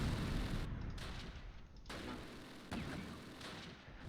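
Tank cannon fire in the Close Combat WWII strategy game, with a few muffled booms and crackling gunfire bursts at low volume amid game ambience.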